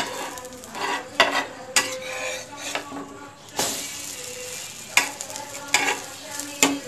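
A brown bread omelette fries in oil in a pan, giving a soft steady sizzle broken by sharp clinks and scrapes of a utensil against the pan.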